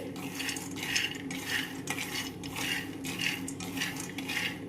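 Peanuts roast in a thick-bottomed pan, stirred with a rhythmic, repeated rustling scrape as the nuts shift and rattle against the metal, steady and close, with no talking.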